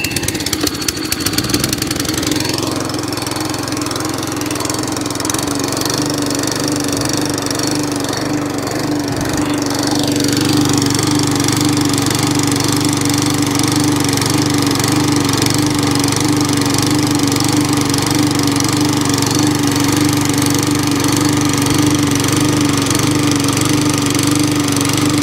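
An Atco cylinder lawn mower's small petrol engine runs nearby, loud and continuous, its pitch rising and falling as it hunts and surges between speeds before settling into a steadier drone, with no talk.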